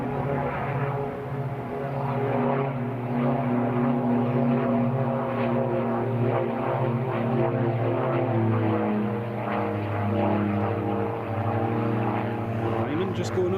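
KLM airliner with propeller engines droning as it taxis at Teesside International Airport, a steady loud engine hum heard from a distance beneath ongoing commentary.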